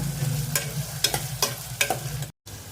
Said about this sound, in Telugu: పచ్చిమిరకాయలు రెండింటినీ బాగా వేపాలి దోరగా వచ్చేంత వరకు మనం వేపుకోవాలి